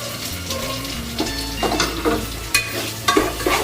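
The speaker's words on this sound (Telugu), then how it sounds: "లోపల ఇది ఫ్రై అవుతా ఉంటుంది" Tomatoes, curry leaves and coriander fry in a pan for a Nellore-style fish curry, with a steady close sizzle and intermittent scraping stirs of a spoon against the pan.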